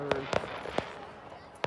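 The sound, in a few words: fireworks going off on Canada Day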